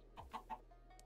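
Chickens in the video game Minecraft give three quick, close clucks in a row, quiet and clear with no talk over them.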